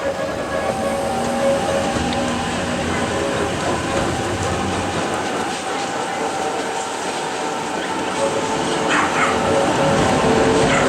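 A funicular train at Montserrat rumbles and rattles steadily as it moves off down the mountain, with a loud continuous mechanical drone and some voices in the background.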